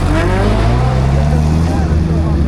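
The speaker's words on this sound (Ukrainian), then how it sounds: "М'ятки їдуть." Mazda Miata cars driving at a drift event in America, a loud close engine drone with rising and falling revs, continuous throughout, with voices audible over it.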